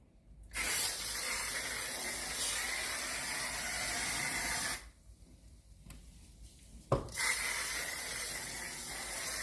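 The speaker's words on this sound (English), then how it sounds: "And Sunshine likes to get this disinfectant spray." Disinfectant spray hisses from a can in two long, loud bursts close by, separated by a short pause and a sharp click, with no talking.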